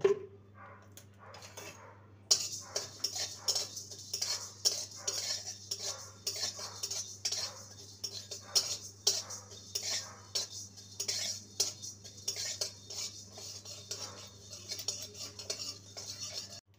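Whole cumin and coriander seeds being dry roasted in a pan, with repeated light clinks and scrapes of a metal spoon stirring them over a low steady hum. No one speaks.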